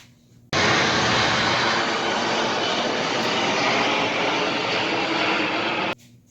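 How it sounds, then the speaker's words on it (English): An airplane passes overhead outdoors, its broad engine roar rising abruptly, holding loud and steady for about five seconds, then cutting off sharply; no talking. "Hold on, it's a damn plane."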